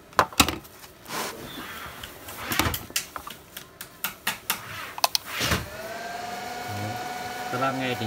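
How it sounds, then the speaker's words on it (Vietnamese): Cooling fan of a Cricket V2 2022 cable-pulling machine running during a test: a few knocks and clicks, then a steady, soft, near whirring hum with a faint tonal whine, alone without talk. "Các bác nghe tiếng quạt này rất là êm nhé"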